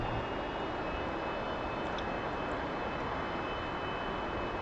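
A T-45 jet taxiing in the DCS flight simulator makes a steady, loud engine roar with a faint high whine. The sound is constant and even, with no talking over it.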